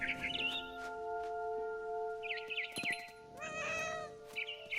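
A cat in What Remains of Edith Finch lets out several drawn-out, wavering meows over a quiet hum, with a bird's faint chirps mixed in.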